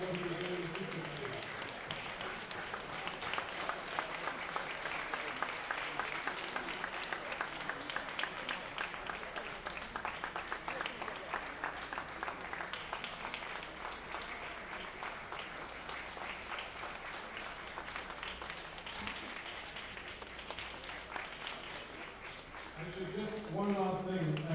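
A crowd applauds a former Prime Minister at an awards event, sustained moderate clapping lasting over twenty seconds, with a voice speaking near the end.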